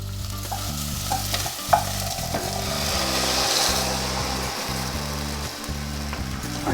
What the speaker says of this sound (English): we're just going to give them a nice stir to try and get some of the butter onto those potatoes